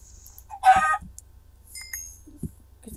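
A video game chicken gives a loud, short clucking call, followed moments later by a fainter second cluck over a steady low electronic hum, with no talk.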